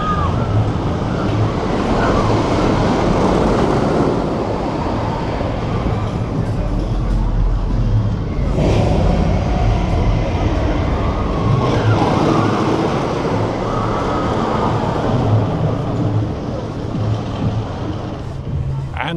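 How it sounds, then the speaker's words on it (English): A GCI wooden roller coaster from 2018, the Wicker Man at Alton Towers, roars along its track in a loud, continuous rumble with clattering surges, mixed with park crowd noise and some voices. "GCI's 2018 wooden coaster Wicker Man"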